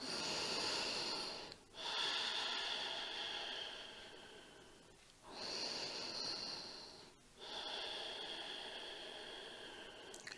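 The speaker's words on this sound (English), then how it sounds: "taking a few inhalations and exhalations." Slow, deep breathing during a yoga practice, long drawn inhalations and exhalations alternating in a steady rhythm, soft and close with airy hiss.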